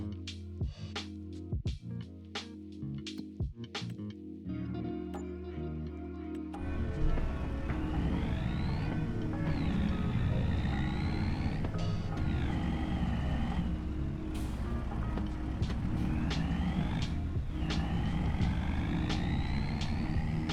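A truck engine in Farming Simulator 25 starts up after a few scattered clicks and then runs steadily for about fourteen seconds, a continuous mid-loud drone with shifting gear pitch and no talking.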